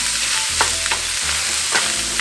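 Onions browning in a frying pan give a steady close sizzle, broken by a few sharp scraping stirs, with no voices.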